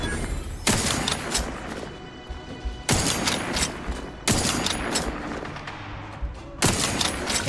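Heavy gunfire in the video game The Outer Worlds 2, with four loud bursts of rapid shots at roughly two-second intervals, each cutting in sharply and trailing into dense rattling and booming.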